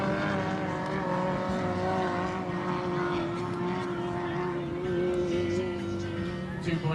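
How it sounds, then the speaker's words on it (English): Race cars with Honda K20 and Ford 2300 engines run in a 2.5 liter stock final at a racing event, a continuous droning engine roar heard from a distance throughout, with talk over the noise. "Got a combination of K20 engines, Honda K20s, and Ford 2300 engines out there."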